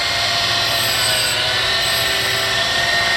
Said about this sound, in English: You come in too much, see, start to stall the motor.